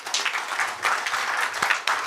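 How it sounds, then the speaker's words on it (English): An audience applauds an award recipient at a lifetime achievement ceremony during a seminar in a hotel, a steady wash of clapping heard close throughout. "A big round of applause, please, for Mr. Ashok Goklani."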